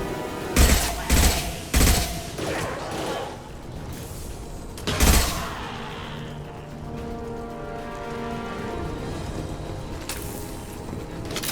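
Gunfire in the video game Mass Effect 2: several sharp, loud bursts in quick succession early on, then a lull and one more burst, over a steady low game background.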